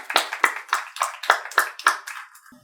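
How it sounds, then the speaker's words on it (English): An audience applauds the developers of a pediatric diabetic ketoacidosis app at a pediatric diabetes conference, with a burst of about eight rhythmic clapping swells that fade out at the end. "I think we should applaud them before anything else"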